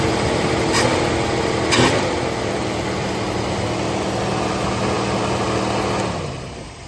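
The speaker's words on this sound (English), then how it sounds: "I just started up the Mercury. First startup after a fresh carb rebuild." A Mercury Zephyr car engine idles steadily after a fresh carburetor rebuild, with a fast high idle. The loud, even running holds for several seconds, a couple of sharp clicks break through early, and the engine dies away at the end.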